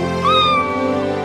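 A cartoon cat gives one clear, close meow that rises and then slides downward, bright and alone with no other sound.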